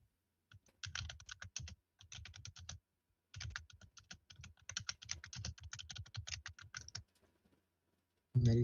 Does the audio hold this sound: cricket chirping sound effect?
no